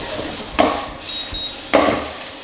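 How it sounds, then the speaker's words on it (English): Bacon frying in a pan gives a steady, close sizzle with two sharper knocks or scrapes of a utensil against the pan, and no voices. "Bacon's coming along nicely."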